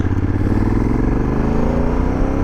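A lowered Honda Africa Twin motorcycle pulls hard on an open road, its engine note rising steadily in pitch as it accelerates, loud and close with constant wind rush.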